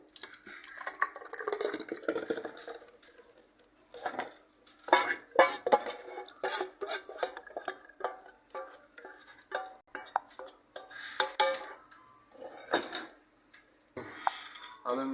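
Chips masala spice mix is put into a grinder jug in a home kitchen, giving a run of close clinks, taps and scraping rattles of utensils against the jug in irregular bursts, with no talk over it.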